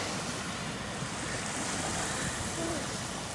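Waves wash steadily onto an empty beach in a continuous soft roar, mixed with wind, and a voice is faintly heard.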